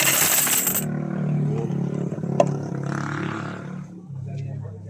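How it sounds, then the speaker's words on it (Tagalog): A few coins are dropped into the coin slot of a vending machine, metallic clinks and a bright clatter among handling noise, with a person speaking over much of it. "kukunin natin yung konting barya at ilalagay natin sa ating"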